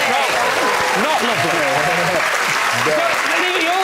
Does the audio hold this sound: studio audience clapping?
yes